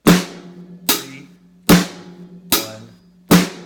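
Five evenly spaced drum kit hits ring out in a slow steady beat, the snare falling on counts 2 and 4, each sharp and close with a short decaying tone.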